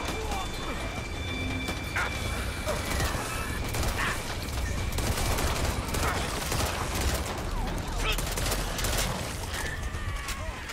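Shotgun blasts and gunfire in the Back 4 Blood video game, repeated booming shots amid chaotic combat clatter and crashes, fairly loud and continuous over a busy game soundscape.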